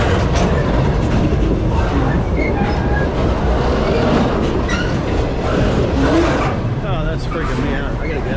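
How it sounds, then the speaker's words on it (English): A train rolls past at close range with a loud continuous rumble and rattling wheels on the track, with people talking over the noise. "You want to see a train?"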